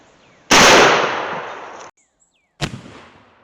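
A single loud rifle shot from an 1886 Winchester in 45-90 firing a 700 grain bullet: a sharp blast with a long decaying tail, a short silence, then a second fainter crack or impact report.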